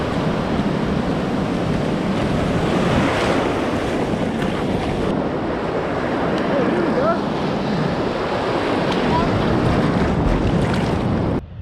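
Ocean waves break and wash continuously onto a South Australian beach near dunes, a loud, roaring surf with heavy wind buffeting the microphone throughout and no talking.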